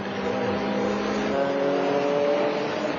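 GT race cars, a Porsche among them, run at the Lausitzring in the 2000 FIA GT season, their engines a sustained loud roar with rising pitch as one accelerates past.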